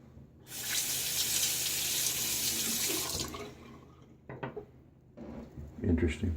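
Tap water runs steadily into a sink for about three seconds while rinsing after a shave with a pre-war Gillette Tech Fat razor, then a few soft splashes and drips follow, close and clear.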